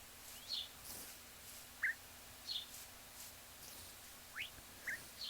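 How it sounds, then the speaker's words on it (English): Birds in a Minecraft jungle give short, sharp chirping cries, about a handful spaced a second or so apart over a quiet ambient background, with no talk. "As you can hear by the screaming bird in the background."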